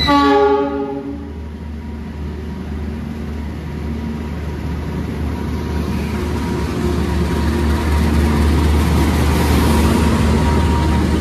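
Bima express train passing through Kebumen station, its horn sounding loud and sustained at the start before giving way to a steady, rumbling roar of railcars rolling past close by.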